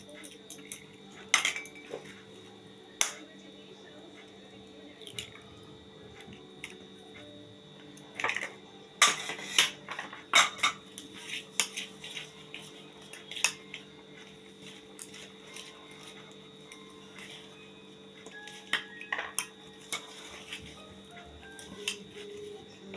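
Cake batter with cracked eggs is mixed in a bowl, with intermittent clinks and scrapes of a utensil against the bowl in a quiet room, in irregular bursts.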